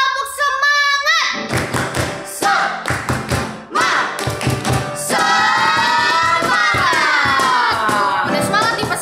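Children at an online Sunday school service join in a rhythmic spirit clap, short bursts of clapping and thumps mixed with shouting, singing voices and cheering throughout.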